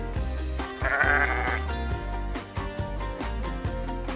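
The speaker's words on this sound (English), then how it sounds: "S for sheep" A single sheep bleat rises briefly over lively, loud background music with a steady beat.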